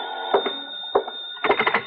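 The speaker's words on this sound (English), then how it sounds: "when the phone rang" An old-fashioned telephone rings in a steady electric trill as a radio drama sound effect, with a sharp clatter or knock interrupting several times, heard close with no voices.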